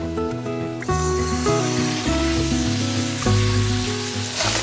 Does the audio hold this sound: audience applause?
no